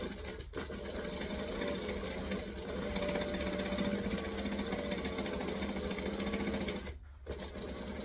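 A sewing machine whirs steadily while stitching rows across a child's hat brim, running close and continuous with one brief pause near the end.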